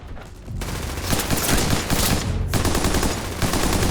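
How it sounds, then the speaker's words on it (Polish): Sustained loud machine gun fire, dense and rapid, running in long bursts with a brief dip near the middle, close and alone without talk. "Karabin maszynowy dziesiątkuje kompanię C."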